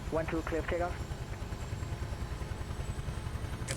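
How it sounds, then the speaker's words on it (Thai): A UH-1H helicopter's engine throttles up, a steady low mechanical drone and clatter running throughout, with a voice speaking briefly over it at the start. "เร่งเครื่องขึ้นมานะครับ"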